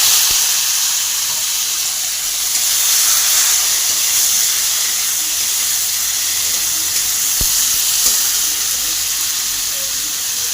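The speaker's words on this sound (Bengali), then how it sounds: "ভালো করে ভেজে নেব।" Chicken gravy masala with tomato frying in a pan, giving a steady, loud hiss-like sizzle that holds evenly throughout, with a couple of sharp clicks and no talking.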